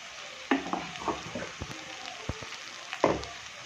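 Dry fish curry with salt, chili powder and turmeric is stirred in a hot pan, with a steady sizzle of frying under several distinct scraping stirs from a spoon against the pan.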